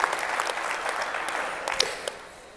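An audience cheers and applauds at a welcome address, a dense burst of clapping that is moderately loud and fairly close, then slowly thins over a few seconds.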